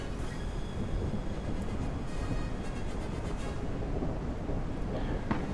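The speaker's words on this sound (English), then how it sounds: "thunderstorm." Thunderstorm in the video game Futureport '82, a continuous heavy roar of rain with low rumbling thunder throughout, steady and loud with no voices.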